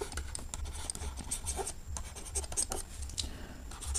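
Pen or marker writing out a trigonometry problem for a maths lesson, soft scratchy strokes in short irregular bursts, close and quiet, with no talking.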